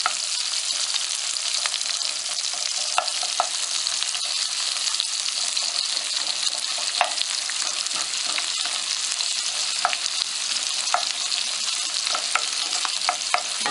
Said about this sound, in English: we're just going to let these onions cook in this leftover hamburger grease so they get a little bit of color on them